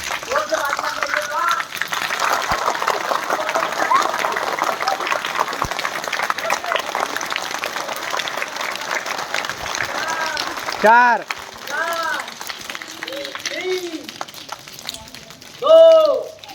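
Children clap and slap hands together to imitate rain during a school physical education session, a dense patter of many hands building and holding, with a teacher's counting voice and children's shouts cutting through near the end.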